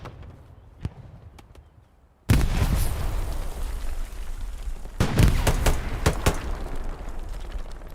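A grenade explodes in the World War II shooter Hell Let Loose, a sudden loud blast after quiet distant gunfire, followed by continuing rumble and scattered sharp shots.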